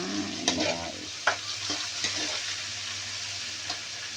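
Onion and tomato frying and being stirred in a pan for beef afritada, a soft steady sizzle with a few clinks and scrapes of a spoon near the start, then a quieter continuous hiss.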